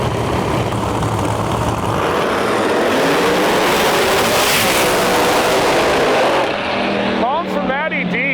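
Pro Mod Camaros launching down a drag strip, a screw-blown car in the near lane and a nitrous car on the far side, a loud sustained engine roar that fades near the end as the cars pull away, with an announcer talking over it.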